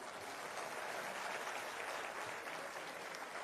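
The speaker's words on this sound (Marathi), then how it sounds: "जरा जोरात टाळ्या वाजवून, हे काय चाललंय?" A crowd at a Maharashtra development awareness workshop claps steadily and densely for the whole stretch, a sustained wash of many hands at even loudness.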